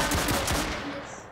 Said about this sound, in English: Let's use the Tommy gun, which is going to be brutal.